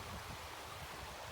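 Junction Creek in the Rockies flowing steadily, a broad, even rush of moving water at moderate distance, continuous and unbroken, with no voices over it.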